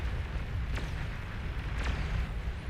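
Explosions in the strategy game Beyond All Reason, a continuous low rumbling roar with two brief sharp bursts, dense and fairly loud throughout with no talking.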